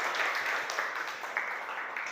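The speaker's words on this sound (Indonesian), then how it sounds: "Tepuk tangan buat Tias ya" A classroom of students claps for a classmate, a brief dense burst of applause that stays fairly even throughout.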